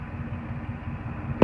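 A 2006 Ford F150 fitted with a Black Widow exhaust and a Bully Dog tuner rumbles low and steady, heard from inside the truck, with a brief sharp burst of noise right at the end.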